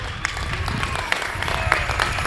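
A rugby crowd at a Verona versus Vicenza match applauds a player leaving the field as a substitute, giving steady scattered clapping at moderate distance with a commentator's voice over it.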